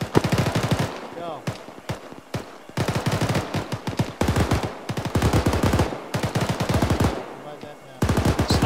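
Sustained machine gun fire in a military video game, loud bursts of rapid automatic shots broken by short pauses across the whole stretch, with faint voices underneath.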